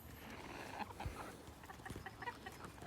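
Backyard chickens clucking softly as they gather around shared watermelon pieces set out in the shade, scattered low calls and brief peeps over a steady outdoor background.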